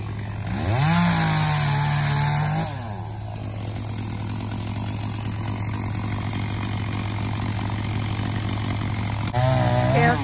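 A chainsaw trimming a big pine tree during landscaping work: the saw revs up sharply, settles into a long steady buzzing run, then revs up again at the end, fairly close.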